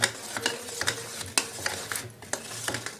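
Cooked dal being stirred and mashed in a pot, a series of soft scraping, clinking strokes at an uneven pace, close and moderately loud with no talking.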